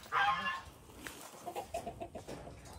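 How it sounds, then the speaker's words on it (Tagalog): Tethered chickens cluck softly and faintly, with one brief louder squawk at the start followed by a run of short, quiet clucks. "Yan yung mga manok na tinali naman."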